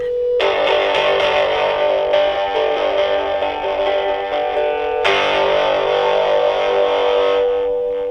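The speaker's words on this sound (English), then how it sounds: "It gives it that little bit more distortion." A cigar box guitar played through a distortion preamp and small amp, sustained buzzy chords ringing out with a thick, saturated tone, loud and continuous.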